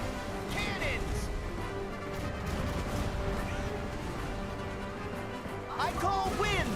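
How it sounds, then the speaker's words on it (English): Dense Kingdom Hearts III combat noise with repeated booming, crashing cannon blasts, mixed with music and effects throughout, voices faintly present. "Cannons!"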